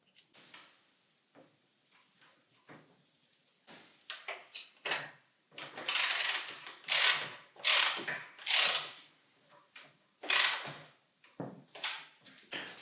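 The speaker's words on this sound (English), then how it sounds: "put the nut back on and tighten it with about 50 Newton meters of torque" Ratchet wrench tightening a mountain bike frame pivot nut, repeated quick clicking strokes that start soft and sparse, then grow louder and regular, close and alone without talk.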